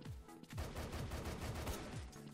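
Rapid automatic gunfire in a Vietnamese shooter game, a continuous close burst of rattling shots lasting a couple of seconds, loud and alone.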